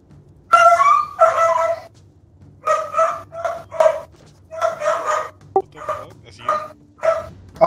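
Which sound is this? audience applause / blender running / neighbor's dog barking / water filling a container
neighbor's dog barking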